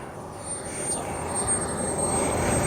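An Elite Aerosports BDX radio-controlled jet plane comes in to land in a stiff crosswind, its turbine a steady, moderately loud whine and rush that swells slightly as it nears, with no talking.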